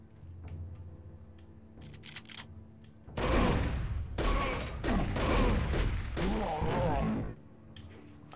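A loud volley of gunshots in the video game Turok Rage Wars, several blasts in quick succession starting midway and ringing out over a few seconds, preceded by quieter scattered game sounds, with a voice faintly present.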